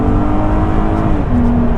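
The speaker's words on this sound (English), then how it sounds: "I'm going to just do an acceleration now" A Mk1 Audi TT 3.2 V6 with a DSG gearbox in S mode revs hard and accelerates, a loud steady drone that shifts pitch partway through, heard from inside the car.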